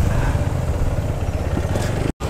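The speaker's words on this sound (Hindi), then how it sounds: "भाई गाड़ी कैसा चिल्ला रहा है देखे तो।" Motorcycle engine roaring steadily while riding in Bhubaneswar, a loud continuous low rumble with some clatter, close and alone without talk, cutting out briefly near the end.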